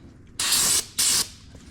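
Brake cleaner blasts from an aerosol can onto oily hands in two loud, steady hissing sprays, each under half a second, separated by a short pause, with no talking.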